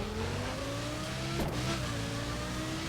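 A Lotus sports car engine in The Crew racing game, a quiet, steady droning tone that shifts slightly in pitch as the car revs, with no voices.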